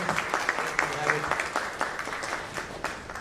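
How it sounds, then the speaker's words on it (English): Steady applause from a small crowd at a business conference, with crisp, quick clapping throughout and a voice faintly audible underneath. "Big round of applause"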